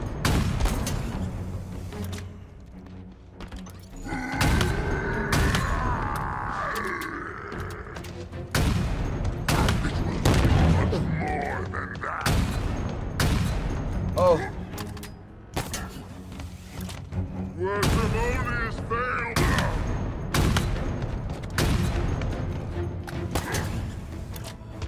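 Video game gunfire in a Spider-Man-themed game, repeated sharp shots and bursts going off close and loud across the stretch, with intermittent rising electronic effects and a few scattered voice sounds between.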